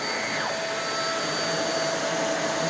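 A Shark NV22 vacuum cleaner runs steadily and loudly throughout, a constant broadband motor whine with a sustained high tone and no pauses.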